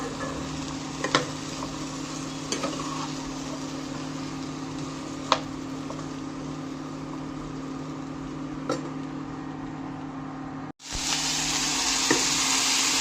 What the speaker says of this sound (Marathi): तुम्ही बघू शकता भाज्या चांगल्या प्रकारे परतून झाल्या आहेत